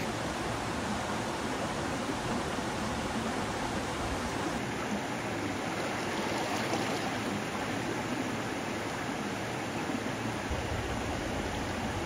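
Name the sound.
small river flowing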